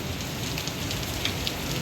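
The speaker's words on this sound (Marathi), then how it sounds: "नुसतं पाऊस चालू आहे, भयानक पाऊस चालू आहे" Heavy rain pours down steadily, a dense, loud hiss of drops on surfaces with no gaps or voices.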